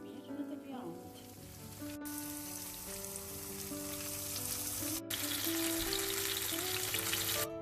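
Chicken pieces frying in hot oil sizzle and crackle steadily, growing a little louder, with a soft tonal hum underneath and two brief dropouts.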